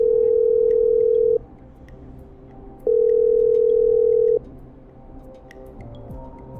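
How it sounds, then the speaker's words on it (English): Dial tones from a telephone in the video game Killer Frequency, two long steady tones separated by a short break, loud and clear, with no talking over them. "I'm dialing."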